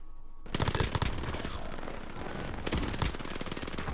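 Rapid bursts of PPS submachine gun fire in a first-person shooter game crackle loud and close, one long volley followed by a short pause and then another fast stream of shots.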